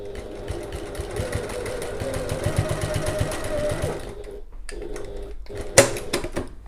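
A sewing machine runs steadily while basting fabric for a zip pouch, whirring and clattering close by for about four seconds before stopping, followed by a few faint handling knocks.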